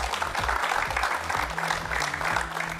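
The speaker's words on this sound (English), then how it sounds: "Please give a round of applause to our 2 judges, Mrs. Nilani Karunarachi and Mrs. Pushpa Sen" Steady applause from a room full of people at a college quiz competition, a dense continuous patter of clapping at moderate loudness with no pauses for the whole stretch.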